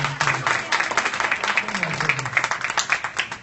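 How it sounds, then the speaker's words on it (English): Zoo event audience gives a round of applause, moderate and somewhat sparse, with individual claps audible over a low murmur and some voice underneath. "Another round of applause for"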